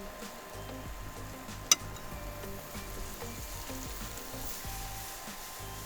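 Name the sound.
onions sauteing in butter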